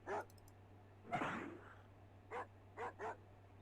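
Repeated barks from a dog in the Amiga game The Jetsons: George Jetson and the Legend of Robotopia: a single yap, a longer noisy burst, then three quick barks over a faint hum.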